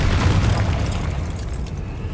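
Confringo fire spell blast in Hogwarts Legacy, a dense sustained booming explosion with heavy low-end rumble filling the whole stretch at steady loudness.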